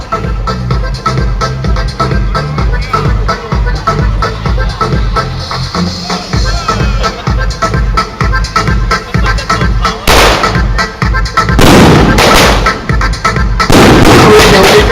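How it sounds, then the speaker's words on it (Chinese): Firecrackers set off at a temple festival in Taiwan, a dense rapid crackle of loud bangs running continuously with bigger bursts toward the end, close and very loud. "请咱诸位鞭炮开始，咱节目的开始。"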